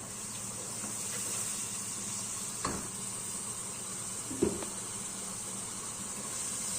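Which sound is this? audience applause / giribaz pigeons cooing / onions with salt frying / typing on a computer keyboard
onions with salt frying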